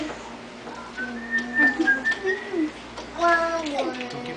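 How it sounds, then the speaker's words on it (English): Someone whistles a short, wavering melody up close, the sustained notes sliding between pitches, with a voice briefly audible in the background. "What are you whistling there, Daddy?"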